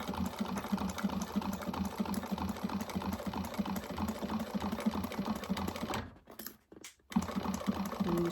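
A sewing machine stitches a bag in a fast, continuous mechanical chatter, close and steady, stopping briefly with a couple of clicks before running again.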